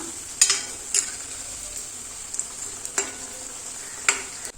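Cabbage pakkavada fritters fry in hot oil with a steady sizzle, while a utensil turns them, giving several sharp scraping clinks against the pan.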